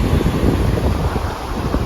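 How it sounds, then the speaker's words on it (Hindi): Cool sea wind blowing on the shore at Murudeshwar, a dense roar of wind buffeting the microphone over the wash of surf, loud and continuous. "ठंडी ठंडी हवा चल रही है और समुंदर की लहरें।"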